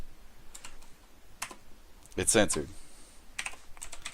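Computer keyboard typing in scattered short bursts, light clicks spread across the clip, with a person talking over the middle stretch.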